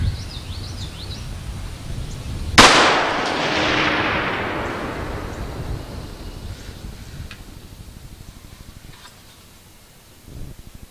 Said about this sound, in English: we're going to photograph you shooting your gun a little